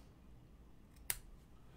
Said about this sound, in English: these scissors, for how cheap and crappy they are, they're still pretty sharp